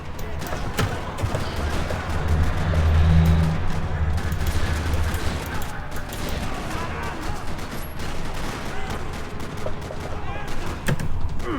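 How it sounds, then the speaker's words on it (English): Sustained rattling gunfire and booming bursts in a parking lot in the video game Max Payne 3 keep going throughout, loud and dense, with a low rumble swelling early on. "Another parking lot rattling with gunfire."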